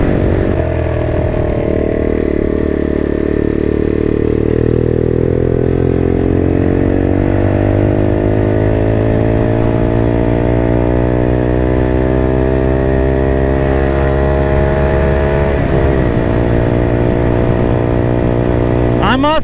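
A Motrac M5 motorcycle engine revs steadily and loudly, its pitch climbing smoothly through a long acceleration before settling, with continuous mechanical drone close by throughout.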